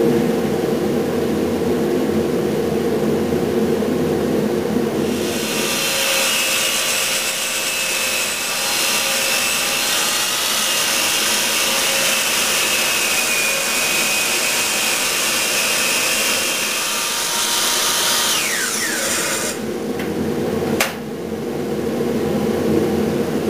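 Deep saw cuts into wood while shaping a sculpture pedestal, a loud, sustained rasping hiss of close sawing for about fourteen seconds, preceded and followed by quieter background noise and ending with a brief knock.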